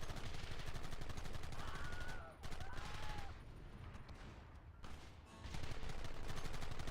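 Gunfire rattles through a Red Dead Redemption shootout in fast, dense volleys of shots. It stays loud for several seconds, thins briefly in the middle, then swells again near the end. A faint voice sits underneath.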